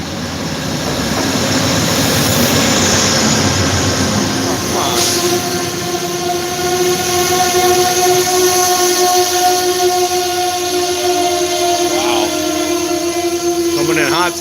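A train rumbles past close by with clattering and squealing wheels, then a long horn blast sounds and holds for several seconds.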